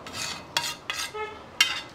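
Onion going into a pan and being stirred while an egg dish cooks, with several sharp scraping strokes of a utensil against metal and a light sizzle between them, close and fairly loud.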